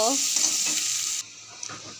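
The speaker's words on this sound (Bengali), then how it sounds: "এবার আমি পেঁয়াজগুলো দিয়ে দিলাম কড়াইতে পেঁয়াজগুলো ভালো করে ভেজে নেব" Onions dropped into a hot karahi fry with a loud close sizzle that suddenly drops to a quieter hiss partway through, with a couple of light stirring clicks.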